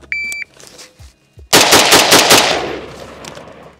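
Rifle gunfire on a range comparing an assault rifle with a battle rifle: after a brief beep and quiet, a rapid burst of loud, sharp shots rings out with a long echoing tail.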